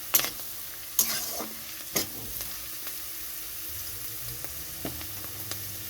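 Dal sizzles gently in a pan over a low gas flame, a soft steady frying hiss punctuated by several sharp spatula scrapes and taps, close up, with no voices.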